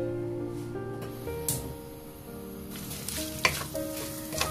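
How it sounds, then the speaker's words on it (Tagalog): Sautéed ground meat sizzles in a pan as ingredients are mixed in, a steady hiss broken by scraping stirs and a couple of sharper clatters, with a faint background hum. "Ihalo na natin doon sa ginisa kong giniling kanina."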